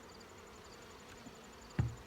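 Honey bees buzzing around an open beehive in September, a faint steady hum with a thin high whine, broken near the end by a short close thump.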